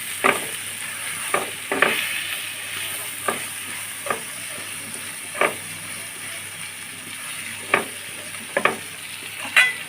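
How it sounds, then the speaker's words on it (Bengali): A vegetarian soybean curry fries in a pan with chili, coriander and turmeric powders, a steady close sizzle broken by regular scraping strokes of a stirring spatula, with no voices. "সব কিছু ভালোভাবে মিশে একটু সময় নিয়ে মেরে করে ভাজবো"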